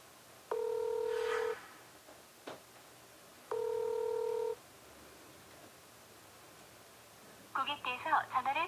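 A phone call to an ex-husband begins with two long electronic ringback tones separated by a pause, then a faint voice answers over the line.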